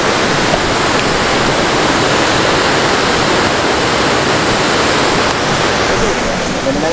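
The Kuntala waterfall, a dense, steady roar of falling water that stays loud and constant throughout with no gaps.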